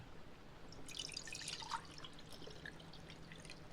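Liquid being poured into a glass for a drink, with soft close drips and splashes over a steady low hum in a quiet room.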